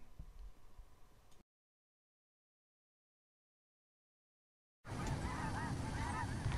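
Faint outdoor ambience at a wildlife area near Medford, Oregon, then a long stretch of silence, followed by a loud burst of geese honking repeatedly close by.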